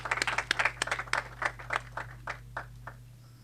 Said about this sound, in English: So in your big round of applause, Lord Qurban Hussain.